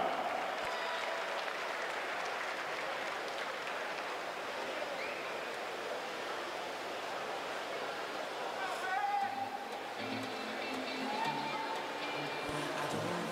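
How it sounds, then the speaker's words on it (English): A continuous wash of crowd applause fills a swimming venue at the 2016 Speedo Winter Junior Championships after the women's 200 backstroke A final, steady and broad, with some voices underneath. "Ladies and gentlemen, how about a round of applause for your ladies in the two-back A final"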